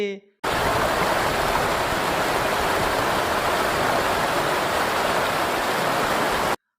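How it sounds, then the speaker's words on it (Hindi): The fast-flowing Mandakini river at night on the Kedarnath route, a loud, steady rush of water that starts abruptly after a brief voice and then roars on evenly, dense and unbroken, as if close by. "आप रात में भी मंदाकिनी नदी की तेज धारा को सुन सकते हैं"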